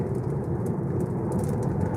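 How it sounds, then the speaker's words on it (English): Light rain beginning to fall on a Tesla Model 3, heard from inside as a steady dense patter blended with a low road and cabin rumble, continuous and fairly close. "Okay, now it starts raining a little bit here, just surprisingly."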